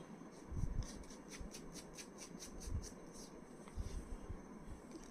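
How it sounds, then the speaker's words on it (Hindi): Tarot cards are shuffled by hand in a quick run of soft, rhythmic flicks over a low, steady background. "कार्ड आपके सामने शफल है जी"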